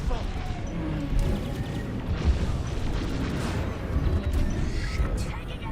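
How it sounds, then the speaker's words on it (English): An incoming missile explodes in a naval video game battle, with a heavy boom and crashing rumble among ongoing gunfire and mechanical clatter, while a voice talks over it. "Incoming missile."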